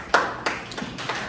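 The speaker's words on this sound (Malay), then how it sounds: "Berikan tepukan untuk kawan-kawan kita ni." Classroom applause for a student group, a few scattered hand claps at a slow uneven pace, close and moderately loud, with no sustained crowd clapping.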